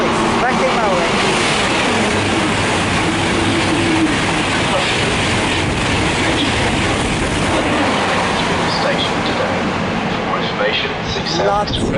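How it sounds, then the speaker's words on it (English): A Eurostar high-speed train rushes past at HS1 Stratford International in a train simulator, a loud, dense roar that holds for several seconds before easing slightly at the end. "now that's passed by will be a Eurostar service going from Paris North to London St Pancras"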